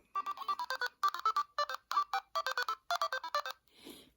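A Sphero Indi toy robot plays a tinny electronic beeping Happy Birthday melody in short rhythmic bursts of tones, ending with a soft rustle.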